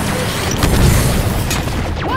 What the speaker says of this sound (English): Watch that grenade!